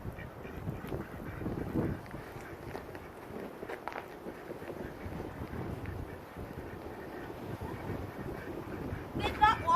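Ducks quack outdoors in a yard at feeding time, faint and scattered under wind noise, footsteps and people talking nearby.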